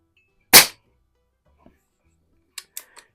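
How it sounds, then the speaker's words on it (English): A .22 rifle fitted with red and yellow fiber optic sights fires one sharp, loud shot near the start, followed later by a few fainter, quicker clicks or impacts. "It's hitting where I'm shooting."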